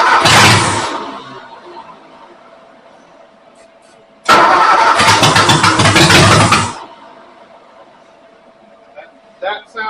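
A Ford 272 Y-Block V8 cranks and fires twice: a loud burst of about a second at the start, then a second start that runs hard for over two seconds before cutting out, with quieter background noise and a few faint knocks between.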